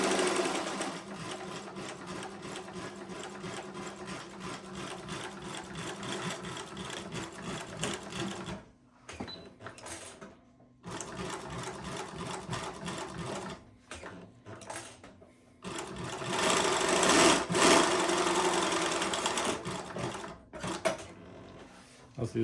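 A Global WF 1575 cylinder-arm walking foot needle-feed sewing machine stitches through stacked heavy material in rapid, steady mechanical bursts, stopping and restarting several times, with someone talking between runs.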